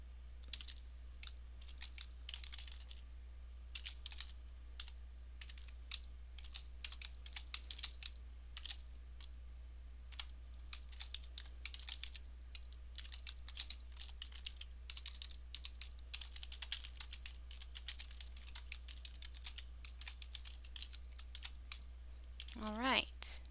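Keys on a computer keyboard clack steadily as a short VBA program is typed in Microsoft Excel, a quiet run of irregular taps over a faint constant hum, with a brief squeak near the end.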